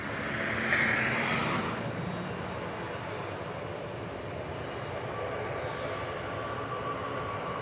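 A United airliner takes off at DFW airport, bound for Sao Paulo, heard as a steady, fairly distant jet roar that swells briefly at first, then settles into a sustained rumble.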